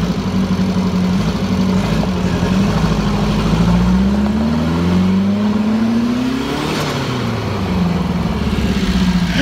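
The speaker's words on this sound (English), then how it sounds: "Turbo noises!" A loud turbocharged air-cooled Volkswagen engine runs up close, its revs climbing and dropping while a rising whistling whine swells and falls over the steady mechanical drone.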